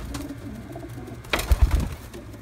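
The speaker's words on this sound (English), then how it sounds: "They're beautiful pigeons, though." A pigeon coos in soft low throaty notes close by, followed by a few thumps and a brief rustle of wings or movement.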